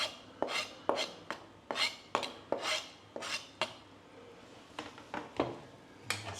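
Metal utensils clink and scrape against a pan in an irregular series of close, sharp knocks as sage is added to pasta and stirred on an induction stove.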